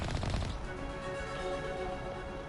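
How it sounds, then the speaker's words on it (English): Rapid booming shots from a powerful cannon weapon in the video game Mass Effect Legendary Edition, a dense continuous barrage of blasts and rumble lasting a few seconds, loud and close with no voices over it. "the cannon is pretty powerful."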